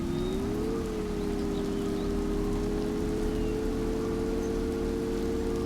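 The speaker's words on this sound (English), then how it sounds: "And so begins the rain." Rain falls in the survival game Empyrion Galactic Survival, an even, steady hiss from start to finish over a constant low droning hum.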